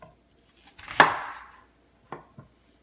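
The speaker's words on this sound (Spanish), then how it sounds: "y también vamos a cortar nuestra cebolla" A knife chops an onion into large pieces on a cutting board for a slow-cooker beef stew, with one sharp, loud strike and a few fainter, shorter cuts afterward.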